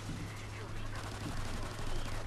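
Gunfire in a Call of Duty video game plays as a dense, continuous crackle of rapid shots for about two seconds, loud and steady throughout.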